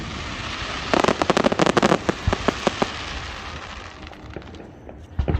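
Fireworks at a city 4th of July display in Warren, Ohio burst in a rapid crackling volley of sharp pops and booms, then thin out to scattered distant bangs with a last few close cracks.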